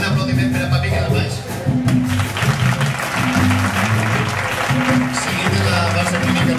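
Loud, sustained applause from an audience at a band performance, steady clapping under a voice speaking over it.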